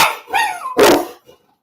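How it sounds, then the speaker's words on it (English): A dog barks twice, loud and close, with harmonic yelping tones, then falls quiet. "what are you barking at?"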